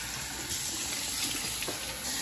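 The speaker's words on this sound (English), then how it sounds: "Always use cold water" Cold water runs steadily from a bathroom tap into a sink, a constant close splashing rush with no talk over it.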